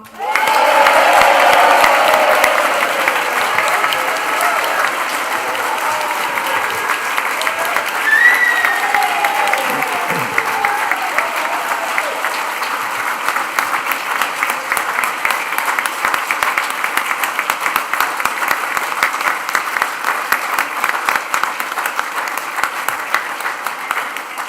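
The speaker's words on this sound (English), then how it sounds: "let's raise the roof with a huge cheer and round of applause for our graduates" A large graduation crowd of nursing and midwifery graduates and guests breaks into loud, sustained applause and cheering that fills the whole stretch, dense and close, with scattered shouts rising through the clapping.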